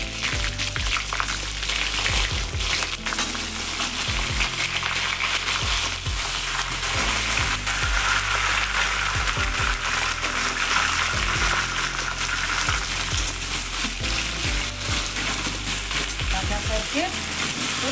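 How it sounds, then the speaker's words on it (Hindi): Jackfruit and potato pieces fry in hot oil, a loud, dense, continuous sizzle broken by frequent knocks of stirring, with no one speaking. "कटहल और आलू को थोड़ा फ्राई करना पड़ेगा।"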